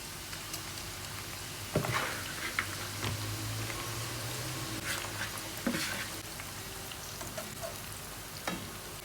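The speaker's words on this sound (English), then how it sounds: "Now that the oil has come to a boil, we're going to add our onions. This is the sound that you want to hear." Onions hit boiling oil for a Spanish potato omelette, giving a steady, close sizzle and crackle with sharp spattering pops through the mix, and no talking.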